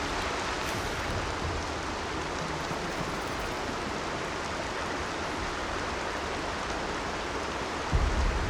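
Steady rain in Horizon Zero Dawn, a dense, even hiss that runs unbroken throughout, with a low thump near the end.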